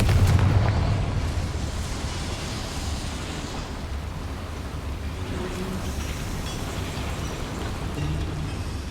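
A Confringo fire spell blast in the Hogwarts Legacy video game, a deep booming explosion up front that rolls into a sustained low rumbling roar, with no talk.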